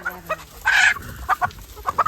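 A village country rooster lets out a short squawking cluck, close and fairly loud, followed by a few quieter clucking notes.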